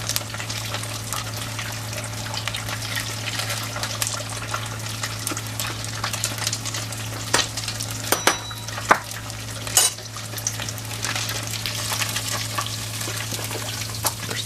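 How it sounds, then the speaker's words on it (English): Catfish frying in a pan on a stove, giving a steady sizzle with occasional clinks of utensils against the pan and a constant low hum in the background, with no talking. "I didn't edit this little piece here where I'm cooking the fish."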